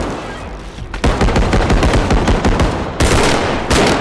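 Automatic gunfire in the realistic shooter Bodycam hammers out in fast, loud, close bursts, one long burst and then a second after a short break, with no talking.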